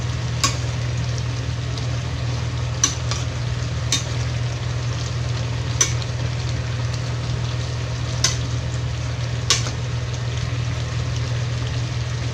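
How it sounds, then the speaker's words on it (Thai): Beef stir-frying with Thai curry paste under a loud steady low hum, with a handful of sharp spatula clacks against the pan at irregular intervals. "ผัด เนื้อกับพริกแกงนะครับ"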